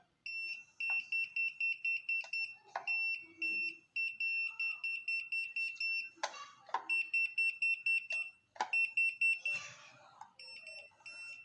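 A voltage detector pen held to a live electrical outlet beeps in rapid repeated high-pitched pulses, loud and close, in bursts with short gaps, with someone speaking quietly in between.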